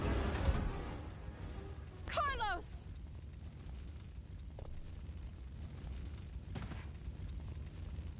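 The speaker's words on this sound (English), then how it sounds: "the fucking gas station blows up" An explosion at a gas station in a Resident Evil video game, with a heavy roaring rumble at the start fading into a sustained low rush of fire, while a voice shouts over it and a sweeping whoosh passes midway.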